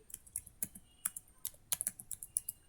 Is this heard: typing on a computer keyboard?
yes